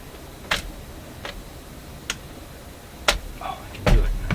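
A few sharp metallic clicks and light rattles of lock washers inside a Traynor 8/201 analog mixer at irregular intervals, fairly close, over a quiet background.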